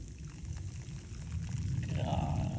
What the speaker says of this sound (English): This is all the water from the mats.